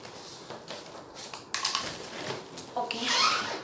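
Blade cutting open a cardboard delivery box holding a tripod and ring light, scraping and slicing strokes up close, ending in a louder tearing rip.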